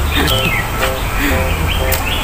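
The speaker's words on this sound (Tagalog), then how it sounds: "Parang music, yung sound ng ibon." Several small birds chirp and whistle in short repeated calls in the Chinese Garden at Kowloon Park, Hong Kong, over a noisy outdoor background, with people talking nearby.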